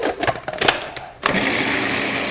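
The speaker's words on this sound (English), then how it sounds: "Back in our puree, Cuisinart, food processor, whatever you want to call it." Cuisinart food processor pureeing cooked pumpkin: a few scrapes and clunks of handling, then the motor starts and runs with a steady, loud whirring drone.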